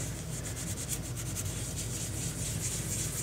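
A wax warmer dish is scrubbed with Barkeeper's Friend cleanser, a continuous close-up rubbing and scouring with quick back-and-forth strokes, steady and fairly loud with no talking.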